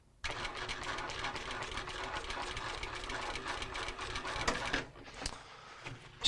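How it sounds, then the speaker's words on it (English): A sewing machine stitches a fabric stuff sack in one continuous rapid mechanical whir lasting several seconds. The motor is close and steady, then it slows and stops with a few short bursts near the end. "We're gonna put down some stitches."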